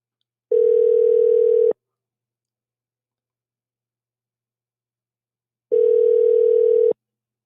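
A telephone rings back on the line in two long, steady electronic tones separated by a long silence, clean and loud as if heard through the receiver.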